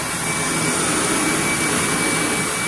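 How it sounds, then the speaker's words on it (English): A steam-clean rug machine blows air hard to dust an area rug, giving a loud, steady, unbroken rushing roar like a jet or vacuum with no pauses and no voices. "that's taking and blowing the air and the junk out"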